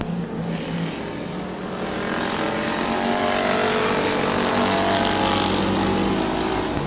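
Race cars circle a slick dirt speedway at Midvale, several engines droning together in a sustained, swelling roar that carries across the track, with no voices.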